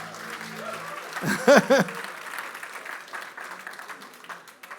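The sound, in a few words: church congregation applauding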